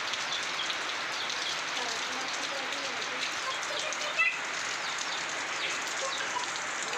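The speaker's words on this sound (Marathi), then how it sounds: "पावसाची झडी ही अशा प्रकारे झडी चालू आहे" Monsoon rain falls as a steady, even hiss, fairly soft and distant, with one small tap midway and no clear speech.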